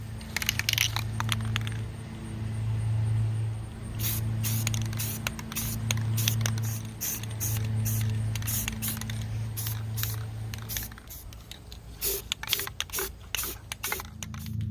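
Spray paint hissing onto a thrifted crock in matte black, repeated short and long bursts of sharp hiss separated by pauses, with a faint steady hum underneath and a few light clicks.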